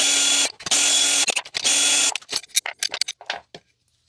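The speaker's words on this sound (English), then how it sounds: "Let's get these temporary nuts off" A power tool spins temporary nuts off a Jaguar XK8/XKR front strut mount: three sustained whirring bursts, then a run of short uneven rattling spurts tapering off into silence, close and loud.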